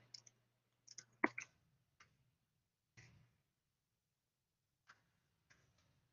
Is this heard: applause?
no